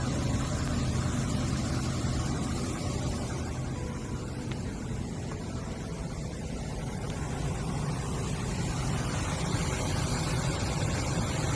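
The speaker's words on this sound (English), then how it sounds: "this engine sounds just great. Look how smooth that thing is." A steady, smooth Ford 5.4L 2V V8 engine idle rumbles evenly throughout, low and continuous with no surges or sputters.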